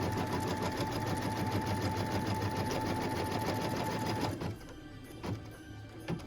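An embroidery sewing machine stitches a tack-down line on a felt Noel ornament, a close, fast rapid-fire needle clatter with a steady whine that slows and stops near the end, leaving a few scattered clicks.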